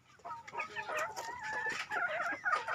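Chickens let out to roam around their coop cluck and squawk in a busy overlapping chorus, with a rooster-like call rising among them. The birds sound close and are heard alone without talk.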